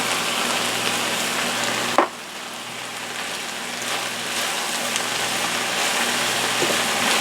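Okra medley sautéing in a pan, seasoned with Stop Your Mama, gives a steady, dense sizzle and crackle close by, broken only by one brief clatter partway through.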